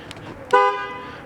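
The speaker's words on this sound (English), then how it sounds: "Honk does work." A single short car horn honk from a 2014 Chevy Impala LT, clear and close, sounding for a fraction of a second before fading.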